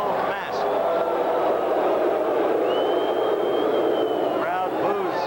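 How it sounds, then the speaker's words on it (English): A boxing crowd at the 1984 Los Angeles Olympics roars and boos steadily in a large arena, the dense crowd noise running throughout under a voice speaking over it. "Crowd boos the young Canadian because of his mauling tactic"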